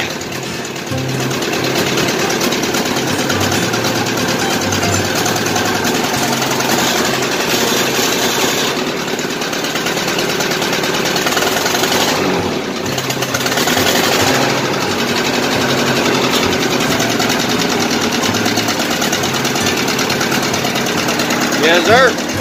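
An old Ford 600 tractor engine running steadily and loudly close by, a continuous rough mechanical drone that holds for the whole stretch without pause.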